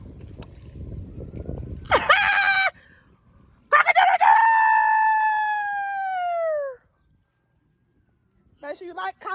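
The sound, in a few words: chicken clucking and crowing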